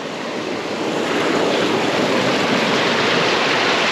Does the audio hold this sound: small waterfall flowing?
yes